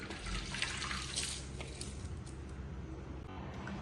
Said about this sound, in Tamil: இப்போ நம்ம இந்த மாதிரி ஒரு கிச்சன் கிளாத்தில் வடிகட்டிடலாம்.